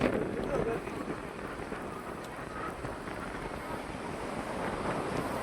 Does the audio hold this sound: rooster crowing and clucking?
no